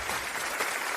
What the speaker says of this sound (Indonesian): Sekarang mari kita sambut mempelai pria hari ini dengan tepuk tangan pewaris termuda keluarga Huo, yaitu Tuan Huo Chenzhou.